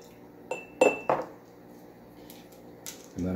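Metal measuring spoons clink against a bowl or container while a teaspoon is measured out for a blackberry maintenance solution, a few sharp close taps and clatters separated by quiet pauses.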